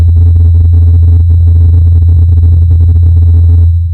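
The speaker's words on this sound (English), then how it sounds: "This is the sound of a helicopter flying on Mars." Recording of the Mars helicopter flying in the thin Martian atmosphere: a loud, steady low rotor hum with a constant tone, and faint higher clicks and rustles on top, continuous throughout without any voices.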